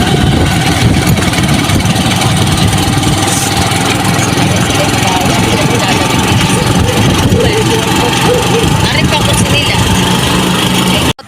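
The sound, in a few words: motorcycle engine idling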